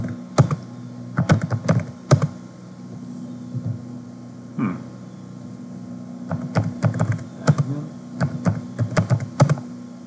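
A password is typed on a computer keyboard in irregular bursts of close, crisp key clicks with brief pauses between groups, in an otherwise quiet room.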